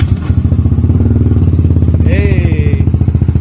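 A Rusi Adventure X 150 four-valve motorcycle with an open pipe exhaust runs close by, a loud, steady thumping idle with a brief rising rev, while a person speaks over it.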